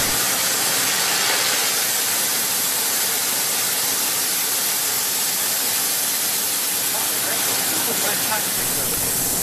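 Steam fire extinguisher system discharging steam onto a small tray of burning petrol, a loud, steady broadband hiss and roar that holds without a break throughout.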